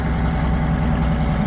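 A 1980s Honda B100 10-horsepower outboard engine idles steadily in a workshop, a continuous close low rumble with a dense mid-range drone and no talking.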